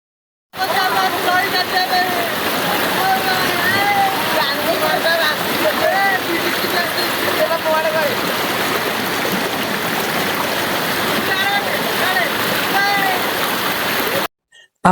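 Strong river in rainy-season flood, water rushing loudly and continuously like a stream or rapids, with splashing throughout; it is steady and close, and voices talk faintly over the torrent.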